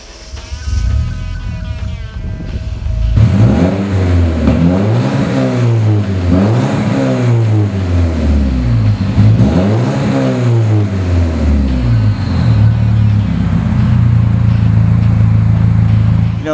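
A 1986 Porsche 944 Turbo with free-flow exhaust starts after a short crank, then revs repeatedly in rising and falling sweeps before settling into a steady throaty idle, loud and close.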